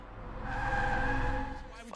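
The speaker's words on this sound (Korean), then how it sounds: "밖에서 차량이 움직이는 소리가 들리고 누군가가 이들의 차량을 탈취해서 도망갑니다" A thief drives off in a stolen car in a deserted ghost town in a thriller film: a brief, fairly close surge of engine and tyre noise swells and fades.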